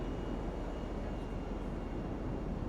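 Jet engines roar steadily as two black police jets chase a silver jet over an airfield in NoPixel GTA roleplay, a continuous broadband rumble with no distinct breaks.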